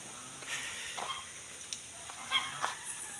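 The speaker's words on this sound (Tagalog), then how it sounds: "Napay ilang gansa guys." Several geese honk in scattered calls at a moderate distance, with quiet background noise between the honks.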